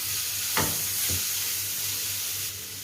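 Garlic and fennel paste frying in a pan while being stirred: a steady close sizzle with a couple of brief scraping stirs early on, with no voices.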